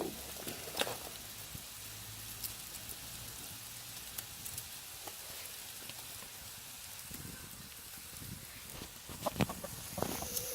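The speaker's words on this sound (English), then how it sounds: "Chickens, you can't live with them and you can't live without them." Chickens clucking and squawking close by in an outdoor yard, scattered calls over steady rain-like background hiss, with a few louder bursts near the end.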